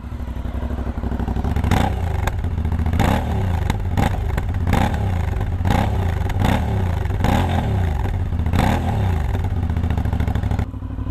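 Aprilia Shiver 900 motorcycle engine revs repeatedly with a deep, cavernous tone, roughly ten rhythmic throttle blips rising and falling over a steady idle, loud and close.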